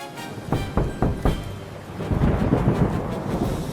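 Loud thunder claps crack several times in quick succession, then give way to a steady roar of heavy rain.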